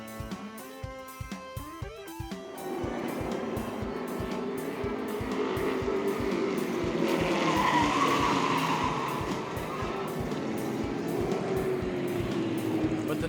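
Race trucks at a short-track feature race roar and skid, with a rising wash of tire squeal and engine noise over a background voice; sharp clicking hits open the sequence before the sustained screeching takes over.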